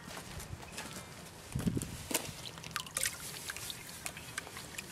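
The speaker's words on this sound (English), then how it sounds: "So I'll pan this out first and see if we get any big bits." Crushed ore material from Norseman, Western Australia, panned for gold: water sloshing and gritty gravel rattling and swirling in a pan, with a few louder scraping bursts, close and moderately loud, no talking.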